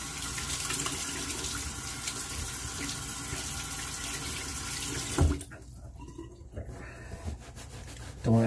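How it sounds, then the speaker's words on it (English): Running tap water rinses hands in a bathroom sink before a shave, a steady close splashing rush that stops abruptly about two-thirds through, leaving quieter room sound with a few light knocks. "I'm gonna rinse my hands off real quick here"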